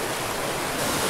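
Rushing water from a small waterfall on a mountain stream pours in a steady, loud broadband hiss, close by and unbroken, with no voices.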